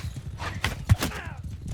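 Horses carrying mounted archers in a video game clatter past with quick hoofbeats, and a whinny rises near the middle, brief and close.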